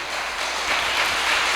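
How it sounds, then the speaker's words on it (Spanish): A congregation in a Spanish-language church service claps for God. A dense, steady wash of applause continues throughout the short stretch without pause. "Le podemos dar un fuerte aplauso a nuestro Dios."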